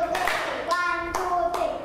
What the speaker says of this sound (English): clap your hands 3 more times.